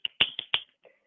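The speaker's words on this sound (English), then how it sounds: "And I'll snap my fingers." Several crisp finger snaps ring out close and clear in a quick, uneven burst of about four, followed by a fainter final snap, alone in a quiet room.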